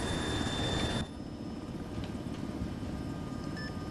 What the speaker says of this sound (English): I heard audible jet in the area vicinity